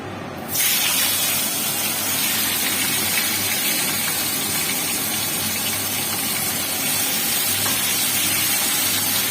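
Vegetables hit hot oil in a pan that already holds fried fish and tempered nigella seeds, setting off a sudden loud sizzle that stays as a steady, close hiss of frying.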